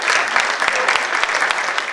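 A crowd at a Bazas fat-cattle festival induction ceremony claps in dense, sustained applause, fairly loud and continuous throughout.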